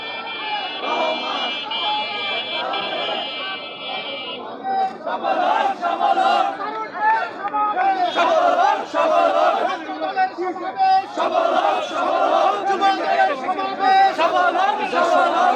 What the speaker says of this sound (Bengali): দেখতে পাচ্ছি এভাবে মূল মূল স্লোগান চারিদিক থেকে এভাবে আসছে